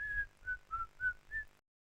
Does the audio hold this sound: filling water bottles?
no